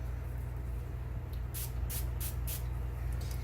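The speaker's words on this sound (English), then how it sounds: "I'm going to take a little bit of setting spray, spritz this" Four quick hissing spritzes of makeup setting spray from a spray bottle, evenly spaced and close up, over a steady low background hum.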